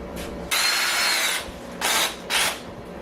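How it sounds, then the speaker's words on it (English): A hammer drill roars in three bursts through a wall, the first long and two shorter, harsh and close, with brief pauses between. "I am just not at all looking forward to trying to hammer drill through that"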